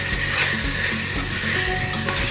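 Food is stirred and mixed in a hot pan during noodle cooking, a loud, steady sizzle with a low background hum and a few faint clinks of the utensil, no voices.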